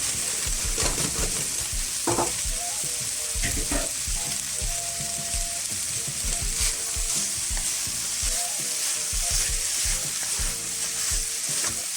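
Day-old rice frying for hotdog fried rice, a continuous hiss and crackle in the pan with frequent scraping and clatter of a utensil stirring and tossing, close and busy throughout.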